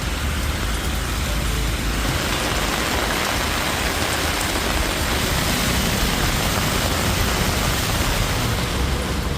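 Heavy evening rain pours down steadily in the suburbs of Chennai, a dense, unbroken hiss of drops on surfaces, loud and close throughout with no voices.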